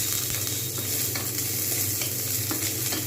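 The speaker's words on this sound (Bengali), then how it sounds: "যতক্ষণ পর্যন্ত না পেঁয়াজগুলো খুব ভালোভাবে ভাজা হচ্ছে, ততক্ষণ পর্যন্ত কিন্তু আমি ভাজতে থাকবো।" Onions frying in a pan for chana masala, a dense continuous sizzle with scraping stirs, close and loud, with no voices.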